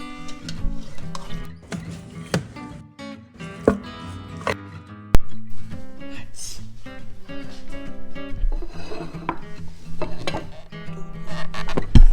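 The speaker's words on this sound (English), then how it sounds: "We're going to get this poor man's brisket onto the cutting board, and we're going to slice this baby up." Knife slicing a smoked chuck roast on a cutting board, with repeated clear chopping strikes and scraping over a steady low background hum, loud and close, no talking.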